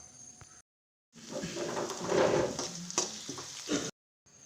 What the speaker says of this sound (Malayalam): നന്നായി അരിഞ്ഞെടുത്ത സവാളയും വെളുത്തുള്ളിയും ഇട്ട് കൊടുക്കുന്നുണ്ട്. ഇത് നന്നായി മൂക്കണം.